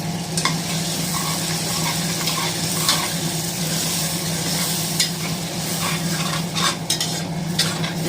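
Ground tomato sautés in a pan for tomato rice, making a steady close sizzle with frequent scraping and clinking from a stirring spoon. No one speaks.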